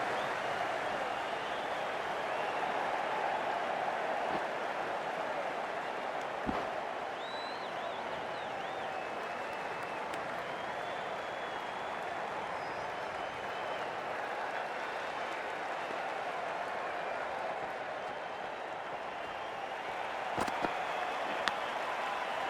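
Steady crowd noise at a cricket stadium during an IPL 2025 match between Chennai Super Kings and Mumbai Indians, a continuous roar with scattered applause, holding a constant level throughout with a couple of brief sharper bursts.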